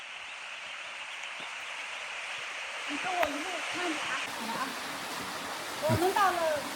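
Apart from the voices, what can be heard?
waterfall in mountain forest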